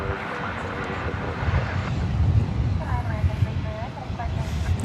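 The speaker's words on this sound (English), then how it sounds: "That was American 329 and Airbus A321 off to Boise," An American Airlines Airbus A321 departs Dallas Fort Worth airport for Boise on a blustery evening, its steady broadband jet roar mixing with wind gusts while voices talk in the background.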